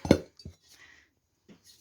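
A couple of sharp metallic clinks, like a light aluminium pot of about 3 litres and its lid knocking together, then a faint rattle and a soft tap after a pause.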